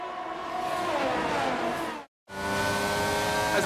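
Formula 1 race cars in F1 22 scream past with high revving engines, loud and close. The roar cuts out briefly and then returns, with no talking.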